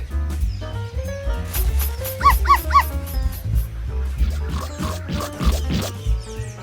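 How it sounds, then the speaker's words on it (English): Dog giving short barks and yips, close and loud, in an uneven run of sharp calls with a couple of higher whining notes between them. "Dog."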